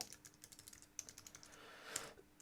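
Soft, rapid keystrokes on a computer keyboard as an email address is typed, a quick irregular patter of light clicks, close and quiet with no talking.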